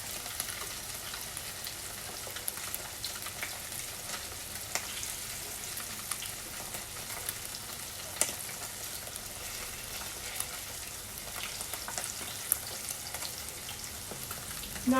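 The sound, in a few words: tofu pan frying and sizzling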